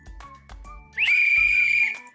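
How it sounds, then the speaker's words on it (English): A single sustained, shrill whistle blast lasting about a second, loud and close, with some low background rumble around it. "Coach Hyatt blew her whistle."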